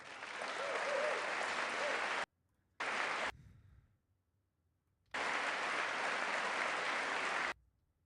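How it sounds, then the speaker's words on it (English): An audience applauds during a congressional address, with sustained dense clapping that cuts off abruptly, resumes briefly, falls silent, then returns strong. No one speaks. "they're clapping because they have to"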